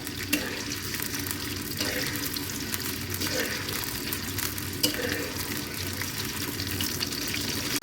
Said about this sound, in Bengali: পেঁয়াজটা একটু ভেজে নেব হালকা করে